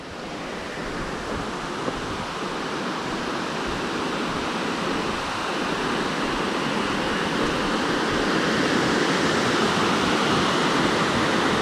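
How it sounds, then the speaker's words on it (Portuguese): A waterfall right at the roadside on a waterfall circuit in rural Minas Gerais on a rainy day gives a loud, steady, close rushing roar of falling water that never lets up, with no voices. "Muito bonita a cachoeira."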